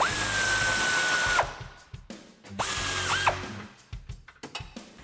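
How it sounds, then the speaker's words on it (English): Ratchet fitted with an 18mm socket tightens a rear bumper bolt on a Jeep Wrangler JL, giving close, loud bursts of rapid mechanical clicking in two runs separated by a short pause, followed by scattered tool knocks. "grab an 18mm socket. We have a ratchet here."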